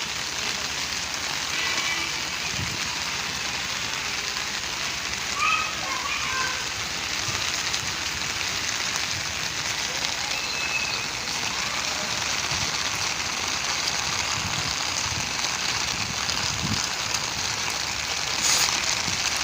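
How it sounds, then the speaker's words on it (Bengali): Steady rain patters on a rooftop in an even, dense hiss that holds for the whole stretch, with occasional louder drips and a faint voice now and then underneath. "আজকে বৃষ্টিটা আমি উপভোগ করছি, আপনাদেরকেও এর সৌন্দর্যটা দেখাচ্ছি।"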